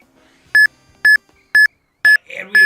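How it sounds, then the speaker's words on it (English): Four evenly spaced, sharp electronic beeps ring out in Pokémon Legends: Z-A, each a short bright tone about half a second apart, followed by a fifth beep overlapping a burst of game sound effects. "And we have beeps"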